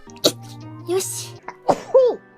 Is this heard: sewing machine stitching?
no